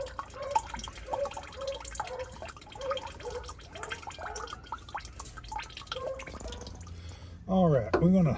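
Fluid from a loosened fuel filter drain on a 2015-2022 GMC Canyon/Colorado Duramax drips into a pan, a steady series of small, close, faint drips before a voice comes in at the end.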